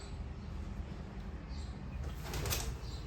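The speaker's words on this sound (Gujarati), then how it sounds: "આવો એ હવે ઘરે જ મોટા થયા હે બધા કબૂતર" Pigeons raised at home make faint, soft cooing against quiet room noise, and a brief rustle of flapping wings comes near the end.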